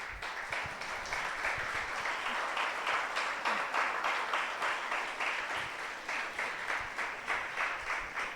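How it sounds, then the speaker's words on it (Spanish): A church congregation at a Sunday service breaks into sustained applause, a dense wash of many hands clapping steadily for several seconds, moderately distant and even, with faint voices beneath. "Den un aplauso al Señor."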